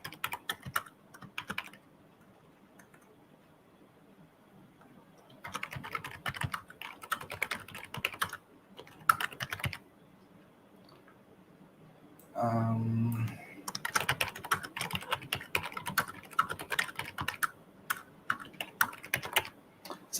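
Someone types on a computer keyboard in irregular bursts of rapid clicking separated by quiet pauses, close and moderately loud, with a brief low thump partway through.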